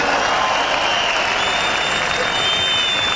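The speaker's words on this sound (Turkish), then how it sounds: "Türkiye'nin gelecek umudu yapan sizlere kocaman bir alkış." A large crowd at a Turkish political rally in Çağlayan, Istanbul, claps steadily in a dense, continuous wash of applause, with faint crowd voices and a high whistle-like tone drifting through.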